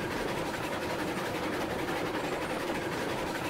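Steam locomotive in the video game RailRoads Online hauling five loaded log cars, a steady loud rumble and rolling clatter of wheels and engine with no pauses.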